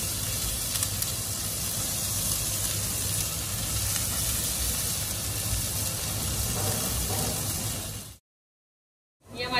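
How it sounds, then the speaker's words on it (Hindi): Potatoes for chilli potato fry lightly in a pan with a soft, steady hiss and sizzle that stops abruptly, leaving a brief silence, with no one speaking. "इसको ज़्यादा नहीं भुनना है हल्का हल्का सा भुनना है क्योंकि थोड़ी हमें क्रिस्पी सी रखनी है"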